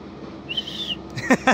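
A single thin, steady whistle tone from a leaf rolled into a whistle sounds briefly, followed by a couple of short sharp clicks or taps.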